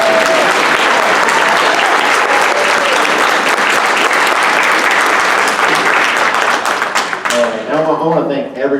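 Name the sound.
bigger applause for Kurt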